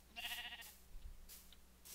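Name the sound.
sheep bleating in a video game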